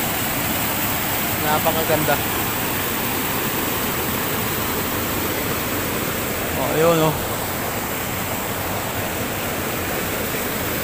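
Steady rushing roar of a waterfall and flowing stream at Manadlam Falls, Antipolo, Rizal, loud and constant throughout, with brief voices of people talking over it.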